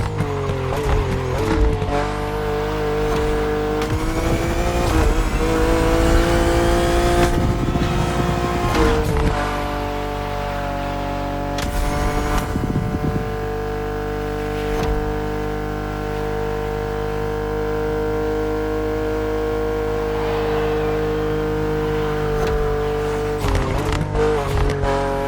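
A BMW in The Crew Motorfest on PS5 Pro, its engine and exhaust droning steadily and loudly throughout, with surges and throttle changes, a few sharp mechanical clicks and brief tire noise along the way.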